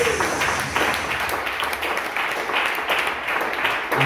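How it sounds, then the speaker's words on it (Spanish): A church congregation claps together as an offering during a service, a steady, dense burst of hand clapping filling the room from start to finish. "Última ofrenda de palmas."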